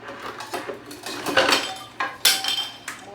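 Metal pots and pans clatter and clink in a kitchen as cookware is shuffled around in search of a colander, irregular knocks and scrapes building to a few louder clanks near the end, with no voices.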